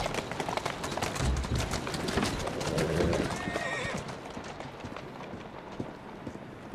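Rhythmic clip-clop of horse hooves in Assassin's Creed Syndicate with a loud whinny partway through, fading to quieter hoofbeats and ambient rustle toward the end.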